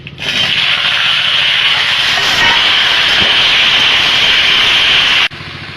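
Vegetables for shukto drop into hot oil tempered with spices, dried red chillies and bay leaf, setting off a loud, steady, dense sizzle that holds for about five seconds, close up, before cutting off abruptly.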